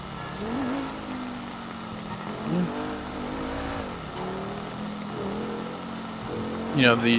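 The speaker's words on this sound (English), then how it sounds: "The sound of the engines, the braking, and the revving of the engine, very immersive." Car engines rev and surge in a Grand Theft Auto game, with rising and falling pitch sweeps, mixed with game sounds and a little background noise at moderate volume.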